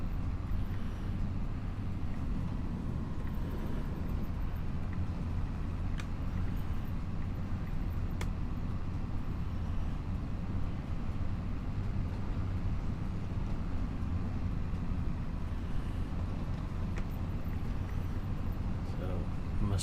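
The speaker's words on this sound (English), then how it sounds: "Got no stuttering in cab with this tractor." In-cab engine of a Massey Ferguson tractor in Farming Simulator 25, a steady low droning rumble running unchanged throughout, with someone talking over it now and then.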